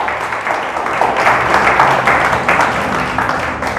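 Church congregation applauding at a Christmas-season sermon, a dense, steady wash of many hands clapping together, loud and sustained throughout without talk.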